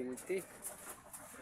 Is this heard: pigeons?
yes